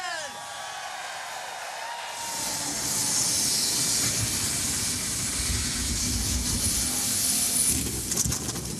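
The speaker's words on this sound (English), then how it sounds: "Gentlemen, start your engine!" Stock car engines firing up at North Wilkesboro Speedway for a NASCAR Cup Series race: after about two seconds of quiet, a loud, steady roar of several engines rises and holds, broad and hissy.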